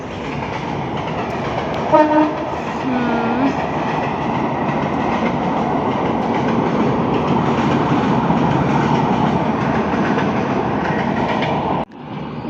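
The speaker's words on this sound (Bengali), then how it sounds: "যাচ্ছে ট্রেন" A Rajshahi-bound train passes close by, its steady loud rumble and wheel clatter filling the whole stretch, with a brief horn blast near the start and a sudden drop as the last cars clear.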